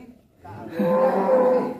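A large jumbo Qurban bull of crossbred stock, said to weigh about a ton, moos once in a single long, loud low call that swells after a short quiet start, heard close by.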